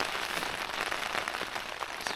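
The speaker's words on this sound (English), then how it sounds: "it's raining reasonably hard" Steady, reasonably hard rain patters densely on a tent at a Lake District wild camp, a continuous close hiss of drops with no talking.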